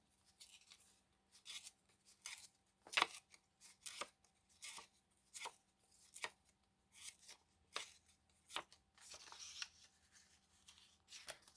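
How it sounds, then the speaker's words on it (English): Daphne's Diary paper pages torn by hand into pieces. About a dozen short, crisp rips and crackles come in an uneven rhythm, close and fairly quiet. The gaps between them are nearly silent. "I think I will rip and tear this one a little bit"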